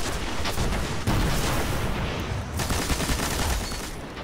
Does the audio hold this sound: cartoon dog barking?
no